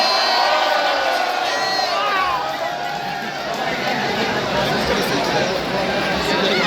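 A large crowd at a Pohela Boishakh New Year celebration at Dhaka University cheers and shouts in a loud, continuous wash of voices with scattered whoops.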